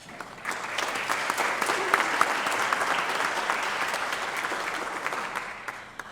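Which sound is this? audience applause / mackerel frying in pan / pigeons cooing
audience applause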